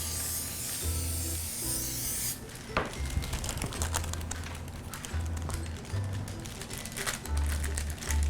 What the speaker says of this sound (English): Open the top, shake the can, give it a good squirt